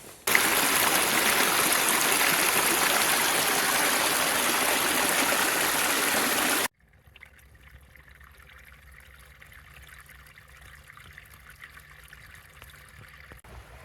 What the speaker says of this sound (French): Et là, d'ailleurs, on a l'Ozon, la rivière.